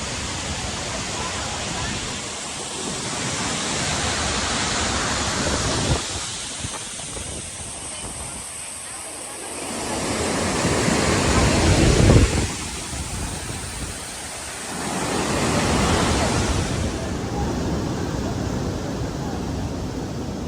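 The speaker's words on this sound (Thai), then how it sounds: "จิลฟอนเป็นน้ำตกที่สูงที่สุดในโลก มีความสูง979 เมตร" A steady, loud roar of rushing water from Angel Falls in Venezuela's Canaima National Park fills the whole clip, swelling and easing slightly in waves.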